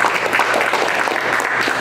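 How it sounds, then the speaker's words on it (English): An audience claps steadily for event sponsors at a MobileMonday Silicon Valley developer meetup, a dense even wash of applause filling the room without a break. "give a round of applause for them for the beer and pizza"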